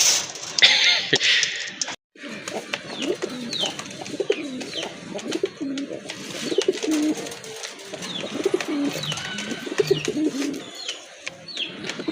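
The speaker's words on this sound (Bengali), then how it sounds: "দেখেন কতটা অ্যাক্টিভ কবুতরগুলো" Pigeons for sale coo repeatedly in low, throaty bursts, close by and fairly loud, with flutters and faint chirps mixed in over steady background noise.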